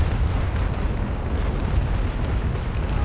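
Warship cannon fire in the naval battle game Naval Action, heard as a dense, continuous roar of overlapping booms that fills the whole stretch at loud, steady volume.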